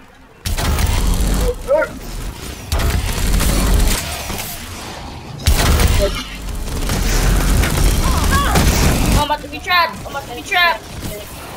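A grenade explosion and rapid gunfire in Call of Duty Advanced Warfare Exo Zombies, heavy booming blasts and bursts of shots repeating loudly over several seconds, with people talking over the action.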